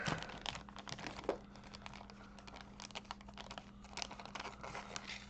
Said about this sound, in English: Open up the bag.